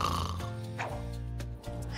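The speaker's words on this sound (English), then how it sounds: "Some mice even snore." A mouse snores in a low, rough, steady drone, close and continuous for a couple of seconds.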